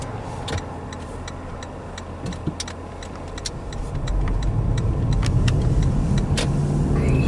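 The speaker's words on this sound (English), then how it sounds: "now we're driving right back into Melrose." A car drives along a Florida road with a steady engine and tire rumble that grows louder and fuller midway, and faint rhythmic ticking runs throughout.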